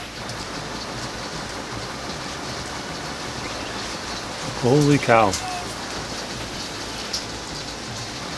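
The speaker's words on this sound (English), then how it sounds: "I think that's mixed with hail, actually." Heavy rain mixed with hail pours down in a dense, continuous hiss, with a man's brief startled exclamation near the middle.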